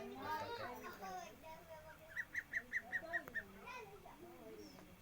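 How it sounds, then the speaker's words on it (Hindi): A female duck quacks in a quick run of about seven evenly spaced nasal calls, close by, with a voice talking before and after. "ये फीमेल बतख है"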